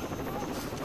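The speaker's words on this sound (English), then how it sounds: "we have this helicopter flying above us" A helicopter flies overhead in the video game Rainbow Six Vegas 2, giving a steady, loud rotor roar that fills the whole short moment with no break.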